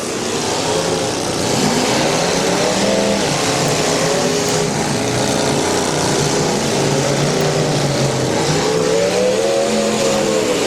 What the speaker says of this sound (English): And into the back of Browder's car he goes.